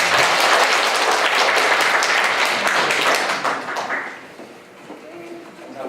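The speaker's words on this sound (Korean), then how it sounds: "큰 박수로 환영하겠습니다." A church congregation at a Sunday praise service gives the pastor a big welcoming round of applause: loud, dense clapping for several seconds that then quickly thins out and dies away.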